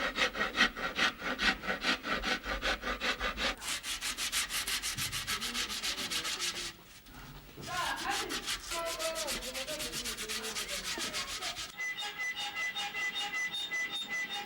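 Rhythmic rasping strokes as the wooden rim of an African drum is worked and shaped, steady back-and-forth scraping close up, with a brief pause midway and no talking.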